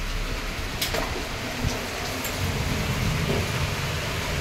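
Steady, dense rain falls outside a house with an attached balcony during a power cut, a continuous close hiss with no voices.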